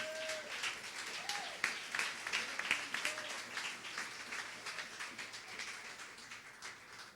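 Church congregation applauding to praise the Lord, a steady moderate wave of clapping from a room full of people lasting several seconds, slightly distant with faint voices over it.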